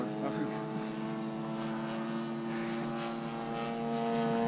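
An 89-inch Hangar 9 Extra model airplane with a DLE55 engine drones steadily overhead with a buzzing propeller, its pitch holding level with a faint rise and fall as it passes.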